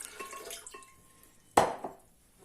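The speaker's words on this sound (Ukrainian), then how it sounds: "вода тече" Water runs and drips in a kitchen while breakfast is prepared, with faint trickling and soft drops, then a single sharp splash or clink of glass near the middle before things go quiet.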